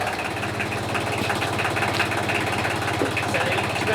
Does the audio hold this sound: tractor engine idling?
yes